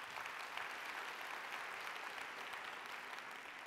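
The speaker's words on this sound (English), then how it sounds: "Please give yourselves a round of applause." Applause from a conference audience at a Jewish leadership event fills the room, steady and sustained and heard from within the crowd, with no talking over it.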